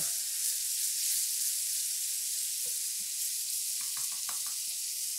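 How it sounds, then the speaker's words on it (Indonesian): Steady, soft sizzling fills a hot pan during a brief sauté, with a few faint stirring clicks near the end and no voices. "Tumis sebentar."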